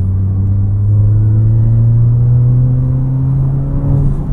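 Tuned VW Polo GTS with a Stage 3 turbo remap, its engine droning loud and close at a steady low pitch with a slight rise in revs, the exhaust rumble filling the moment with no talk.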